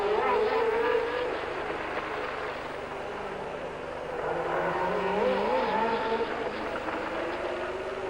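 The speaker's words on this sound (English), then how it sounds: "the Long Beach Grand Prix for World Formula One cars" Formula One cars racing at the 1979 Long Beach Grand Prix street circuit, a sustained high-pitched engine whine that swells and fades as cars pass, steady and fairly loud, with faint commentary mixed beneath.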